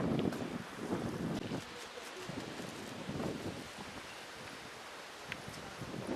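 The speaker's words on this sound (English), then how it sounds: "a little overcast and a bit windy" Steady outdoor wind buffeting the microphone near a cliff in Spain, gusting louder at first then settling into a continuous rushing noise.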